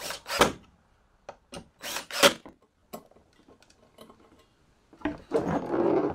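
A power drill fastens a Wood 5CCT 52-inch outdoor ceiling fan with a few short separate bursts, then a longer steady whir near the end.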